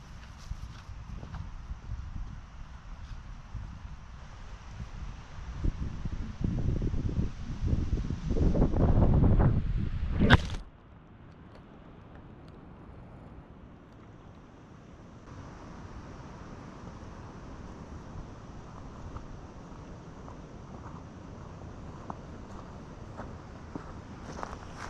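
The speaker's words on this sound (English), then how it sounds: "You can see the wind is blowing over my GoPro" Wind buffets a GoPro camera outdoors while someone digs through briars to plant mulberry bushes under a tornado watch. A loud, rumbling gust peaks and then cuts off sharply, and softer steady wind noise follows.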